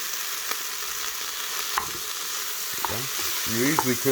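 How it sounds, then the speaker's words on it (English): Minced garlic hitting a pot of sizzling smoked brisket chili, a steady close frying hiss with a few stirring clinks, and a voice speaking over it near the end. "the next thing that we'll be throwing in, that won't take long either, will be our minced garlic"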